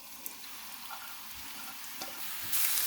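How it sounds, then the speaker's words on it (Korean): Chopped onion fries in a generous pour of cooking oil in a preheated pan, a steady close sizzle with soft crackles and a stirring scrape, the hiss swelling louder near the end, with no talking. "예열된 팬에 식용유를 부어주고요. 식용유는 조금 많이 부어주세요. 이제 다진 양파를 넣어줄게요."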